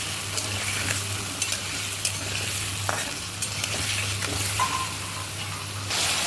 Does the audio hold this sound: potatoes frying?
yes